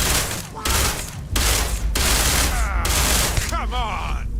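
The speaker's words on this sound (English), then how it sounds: "Activate units. I am opening fire." Rapid bursts of gunfire from the sci-fi video game Starfield, repeated volleys with heavy booming hits alternating with short pauses, loud and close, mixed with game sound effects and a voice in the background.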